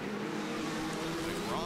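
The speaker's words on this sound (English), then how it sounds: "The streets of Long Beach, California are alive with the sound of race cars." IndyCar race cars during the 2012 Grand Prix of Long Beach street race, a steady high engine whine of cars at speed, heard at a distance beneath a commentator's voice.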